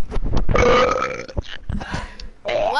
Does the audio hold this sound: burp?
yes